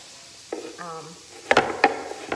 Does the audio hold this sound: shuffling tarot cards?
no